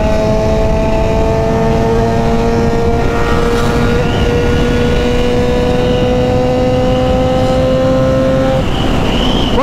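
A Yamaha XJ6 motorcycle with a straight 2.5-inch exhaust pipe and Fuel Tech setup idles and revs loudly up close, its engine note holding steady, then rising near the end, with no talking.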